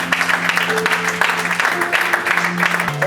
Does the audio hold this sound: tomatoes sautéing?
no